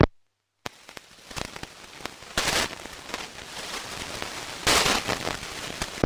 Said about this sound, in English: it's a rainy morning this morning. It's rained all night.